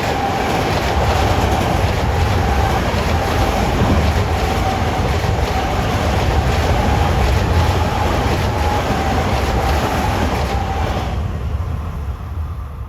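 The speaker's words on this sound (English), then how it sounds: "Here's 1568 from Penn Station to Huntington, going east on number 3." Long Island Rail Road commuter train 1568, running east from Penn Station to Huntington on track 3, roars past close and loud with steady rumbling wheels and a faint clickety-clack, fading slightly near the end.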